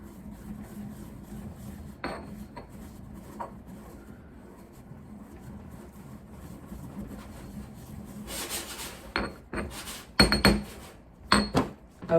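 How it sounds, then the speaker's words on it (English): Herbs being ground and rubbed to macerate them for an oil infusion, with faint intermittent scraping that builds into louder, sharper knocks and grinding strokes toward the end. "So you want to give it a good maceration."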